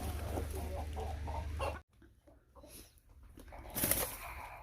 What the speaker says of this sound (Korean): 아이고 진짜 닭 싸움 요란하네요